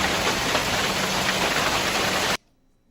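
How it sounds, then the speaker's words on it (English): Pea- to quarter-size hail pours down in a severe storm in downtown San Antonio, a loud, dense, unbroken clatter that cuts off abruptly near the end. "That's P to quarter size hail right there."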